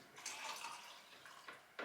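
Water pours into a glass while making bubble tea at home, a soft continuous splashing trickle lasting under two seconds with a few brief louder gushes, close and fairly quiet.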